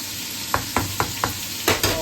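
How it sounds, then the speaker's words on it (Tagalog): Pork sauerbraten sauce stirred in a pan, with six quick scraping strokes in a steady rhythm over a soft continuous sizzle, close and moderately loud. "Haluin natin yung kanyang sauce."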